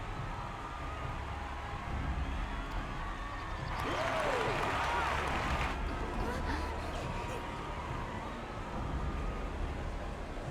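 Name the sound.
crowd cheering in Final Fantasy 14 video game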